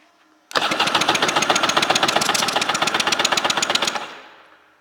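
The engine from a 1993 Kawasaki SuperSport XI 750 personal watercraft cranks over during a compression test, giving a loud, dense, rapid rhythmic chugging for about three and a half seconds that then winds down to quiet.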